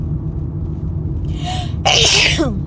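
A single loud, sudden sneeze preceded by a quick inhaling gasp, heard over a steady low rumble of background noise.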